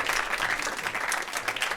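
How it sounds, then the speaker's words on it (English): A crowd at a senior recital applauds with a dense, steady burst of clapping that fills the room. "Another earth-shattering round of applause for SpongeBob SquarePants."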